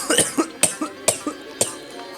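Several sharp coughs in a row, close and loud, spaced by brief pauses.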